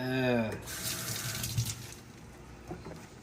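Water pours into a pot of chicken soup with a whole onion and whole chicken, a steady filling rush for about half a second after a brief voice, then settling into faint sloshing and quiet kitchen noise.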